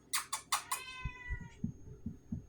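A cat gives four quick, high meows in a row, close to the listener, followed by soft low thumps and rustling.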